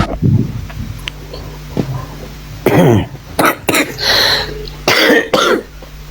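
A few harsh, bursting coughs close to the microphone, spaced irregularly with short quiet gaps between them.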